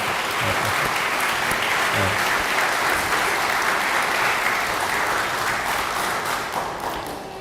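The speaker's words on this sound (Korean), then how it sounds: "여러분 큰 박수로 환영해 주시기 바랍니다." A church congregation at a family invitation worship service claps in welcome, a dense, loud, steady round of applause sustained throughout without talk.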